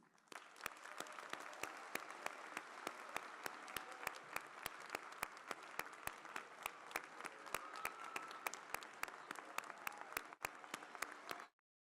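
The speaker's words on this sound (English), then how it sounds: "Please join me in one more round of applause for our students." An awards ceremony audience claps in a dense, sustained round of applause, steady and even, that lasts about eleven seconds and then cuts off, with no voices over it.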